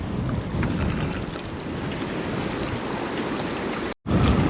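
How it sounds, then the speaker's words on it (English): Strong wind buffets the microphone at an Oxfordshire carp fishing spot in a constant, heavy roar that cuts out for a moment before surging back. "This wind is making this pretty tricky."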